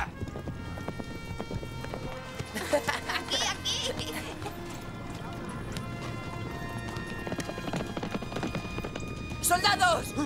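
Horses gallop in an animated adventure series, their hooves clip-clopping in a steady, fast rhythm at moderate loudness, with a whinny near the end and voices briefly heard over the hoofbeats.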